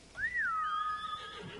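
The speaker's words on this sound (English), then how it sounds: "I hold on the left direction button, and it can call your horse" A horse whinnies in the video game Ghost of Tsushima after being called, one clear rising-then-falling neigh that trails off, heard alone and close.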